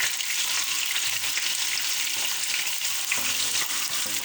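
Ginger garlic paste fries in hot oil for chicken nihari. A dense, even sizzle runs throughout with faint stirring scrapes.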